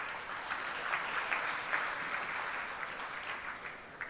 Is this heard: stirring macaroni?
no